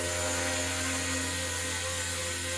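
A Blade RC helicopter with new rotor blades holds a steady hover, a continuous, even high-pitched motor whine and rotor hum at close range with no talking.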